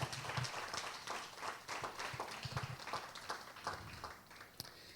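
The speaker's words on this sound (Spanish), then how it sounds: "Vamos a dar un aplauso fuerte al Señor." Church congregation clapping in applause, a sustained wash of many hands with rhythmic pulses, moderately faint and distant in the sanctuary, with no talk over it.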